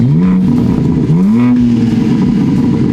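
A Genesis G80 sedan's stock engine revs loudly with its exhaust, up close, the pitch climbing and dropping through two throttle blips before settling into a steady, raspy drone.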